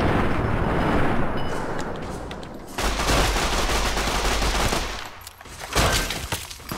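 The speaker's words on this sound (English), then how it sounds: "Machine gun? Yeah, this should do the trick." Sustained machine-gun fire in Fallout: New Vegas, with a long, loud, close volley of rapid shots, a brief lull, then further bursts, with no talking over it.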